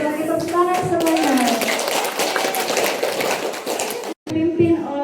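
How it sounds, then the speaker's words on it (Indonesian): A group of staff at a school retreat applauding, a short burst of hand clapping that follows spoken words and comes fairly close and full. "Oke, tepuk tangan semuanya"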